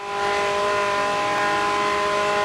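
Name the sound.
Lexus LC500 V8 supercar engine in video game Project Gotham Racing 3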